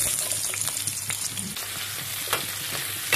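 Onions fry in a pan for an egg dish, giving a steady, close sizzle with soft crackles and occasional stirring scrapes throughout, with no talking.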